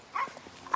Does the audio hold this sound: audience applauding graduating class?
no